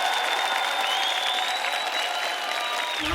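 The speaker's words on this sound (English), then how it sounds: "That deserves a clap, guys." A small group claps steadily for a loaded French toast at a food stall in Winchester, the applause dense and continuous before cutting off abruptly at the end.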